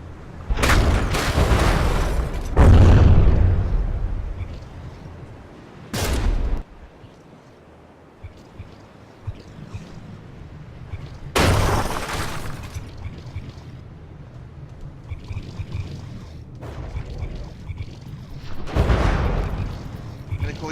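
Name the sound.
shell hits and gunfire between frigates in From The Depths video game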